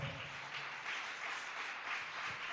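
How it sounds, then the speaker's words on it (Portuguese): Church congregation applauding the Lord at a Tuesday evening service, soft continuous clapping from many hands with gentle swells, faint and steady. "Aplauda o Senhor."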